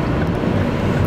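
A car drives through a tunnel, its rumble mixed with heavy wind buffeting on the microphone, a constant dense roar that is loud and close over a brief stretch, with no talking.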